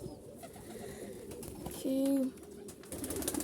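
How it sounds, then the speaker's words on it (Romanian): Pigeons coo in a yard in Constanța, one clear close coo standing out midway over a bed of softer bird murmurs and rustling, with a brief spoken word near the start. "Uitați porumbei. Porumbei frumoși."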